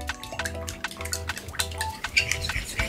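A burger mixture seasoned with a pinch of salt being whisked in a bowl, with quick, even, rhythmic clinking and soft wet sloshing that is close and fairly loud, with no voices.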